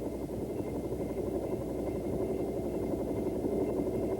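A Bell AH-1 helicopter lifting off into a hover, a loud continuous rotor and turbine drone with a steady rhythmic beat, close and unbroken throughout.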